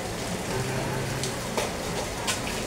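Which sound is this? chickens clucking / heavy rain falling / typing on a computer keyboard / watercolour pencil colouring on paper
heavy rain falling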